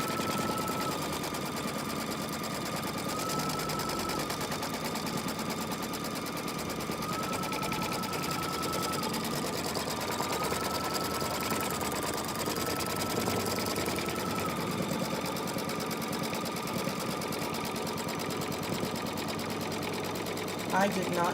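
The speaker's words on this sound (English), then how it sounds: "I'm going to run that outline stitch so you can see that" An embroidery machine stitching a stocking outline in the hoop, a steady, loud, rapid mechanical whirr and needle chatter running continuously throughout.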